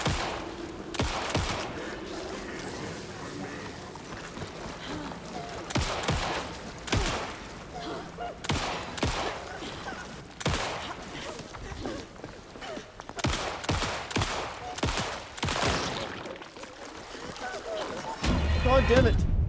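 Rapid gunfire from the video game Alan Wake 2, a steady stream of shots fired in quick bursts under a running voice, with thumps and game noise throughout.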